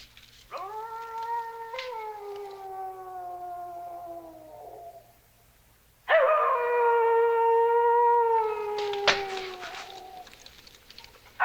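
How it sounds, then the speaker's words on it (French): Coyotes howl at night in two long, wavering, sliding cries, the second louder and joined by overlapping voices, with a brief sharp sound near the end and quiet between the howls. "Les coyotes ont l'air bien nerveux cette nuit"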